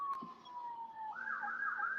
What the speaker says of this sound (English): Yo, the sirens, yeah.